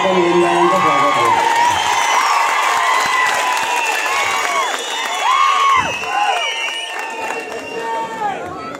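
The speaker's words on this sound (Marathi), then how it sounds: "जोरदार टाळ्या वाजवून आपण ओमराजेंचं स्वागत करू." A large outdoor public rally crowd in Barshi claps and cheers loudly to welcome MP Omraje Nimbalkar, dense sustained applause mixed with shouts and whistles, with voices calling out over it.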